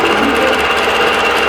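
A computerized quilting machine stitches a row across a quilt top, making a steady, fast, continuous mechanical whir with a constant rhythmic chatter of the needle, loud and close, with no pauses.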